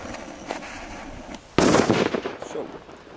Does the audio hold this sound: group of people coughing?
no